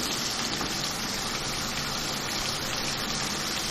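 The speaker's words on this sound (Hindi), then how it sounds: "थोड़ा सा पानी डाल दूँ।" Water poured into nihari masala frying in a pan gives a continuous, steady gushing hiss, loud and close, lasting throughout with no voices.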